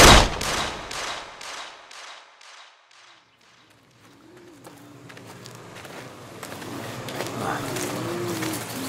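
A rapid series of loud gunshots rings out in a German audio drama, about eight sharp cracks in quick succession that fade into quiet, followed by faint rustling and low movement.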